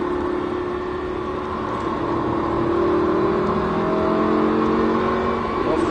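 A Lamborghini Huracan engine drones steadily under light throttle on the Mettet circuit, a sustained loud engine tone that holds through a corner without sharp revving peaks, heard from inside the car.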